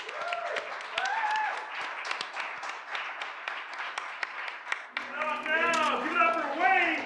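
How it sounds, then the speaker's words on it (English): At a singer-songwriter night in a town center venue, scattered audience clapping rises under a lively mix of voices, then gives way to cheering and loud talk. "I think we have to have a round of applause for Greg for that."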